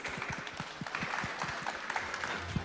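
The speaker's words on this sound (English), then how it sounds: "how about a warm round of applause for our panelists?" Audience applause for panelists at the Open AGI Summit 2024, a modest crowd's clapping with distinct individual claps audible over a continuous backdrop.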